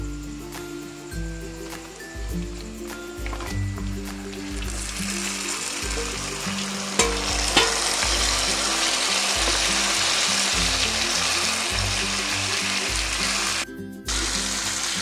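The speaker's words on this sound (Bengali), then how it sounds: "পাঁচ সাত মিনিট ভেজে নেবো" Chicken pieces fry with onions in a pan, a steady sizzle with scraping stirs and clunks that grows louder and more hissy midway, with a brief break near the end.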